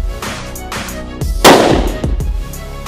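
A Tikka T3X TACT A1 rifle fitted with a muzzle brake fires one loud, sharp close-range shot with a ringing tail, following quieter mechanical rustles and clicks.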